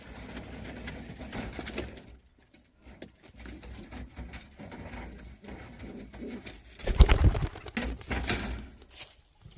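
Pigeons cooing close by in low, repeated murmuring calls, with a louder burst of flapping or shuffling near the end and no talking.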